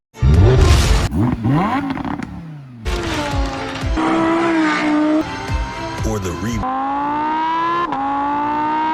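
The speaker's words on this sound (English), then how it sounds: "now let's compare those sounds from the videos to the real Lamborghini Huracan" A Lamborghini Huracan engine revs hard up close, loud, pitch climbing and dropping in several sharp bursts before settling into a sustained high whine.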